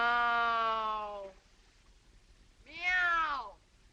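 A human voice imitates a cat's meow as a signal, giving two drawn-out, cat-like meows separated by a short pause, close and fairly loud.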